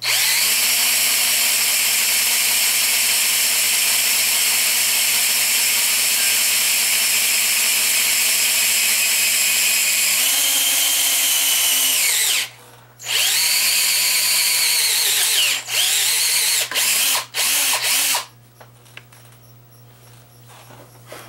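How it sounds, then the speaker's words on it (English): A power drill drilling through a plug whines steadily and loudly, then stops and starts in several short bursts before cutting out. "I'm going to drill through the plug."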